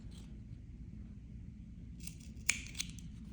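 Scissors snip frayed fabric ends from a sewn table runner, two quick crisp cuts near the end after quiet handling, faint and close.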